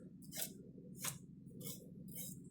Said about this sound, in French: Donc, tu viens limer en dessous comme ça.